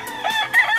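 A Gilmore Raptor cross gamefowl rooster crows close and loud, two strained rising calls in quick succession with no talk over them.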